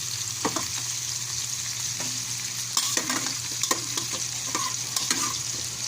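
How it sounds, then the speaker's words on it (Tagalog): Softened pork is stirred into carrots and potatoes frying in a pan: a steady, loud sizzle with clattering scrapes of a spatula in short bursts. "Ngayon ay ilagay naman natin yung pinalambot na pork"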